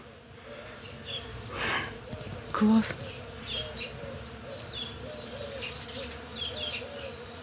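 Bees buzzing nearby, unseen, as a steady, fairly faint drone that swells and fades throughout, with a short spoken word partway through.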